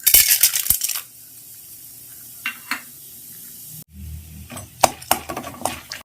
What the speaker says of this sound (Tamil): இந்த கடலைப்பருப்பு பருப்பை போட்டு தாளிக்க போகிறோம்